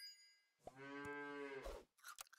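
A cartoon cow moos once in the Super Auto Pets video game, a clear mid-length low bellow standing alone with a short sound effect after it.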